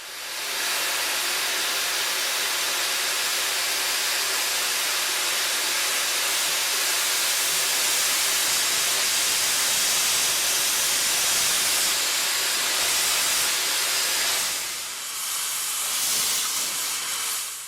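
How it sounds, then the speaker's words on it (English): A 1952 Baldwin-Lima-Hamilton 2-8-0 steam locomotive, number 610, is readied for service at a museum shop complex in East Chattanooga, and steam hisses loudly and continuously from it, with a brief drop near the end. "we see locomotive number 610 being readied for service"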